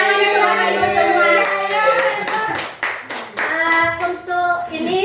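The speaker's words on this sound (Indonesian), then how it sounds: "Tepuk tangannya dulu Ibu semua." Teachers clapping together in a school session, bursts of hand claps breaking through over a loud voice that keeps talking close by, with a voice faintly mixed in.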